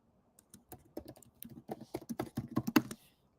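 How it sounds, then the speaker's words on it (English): Typing on a computer keyboard, a close run of quick, uneven key clicks that gathers pace and density toward the end, with no talking. "I'll just type."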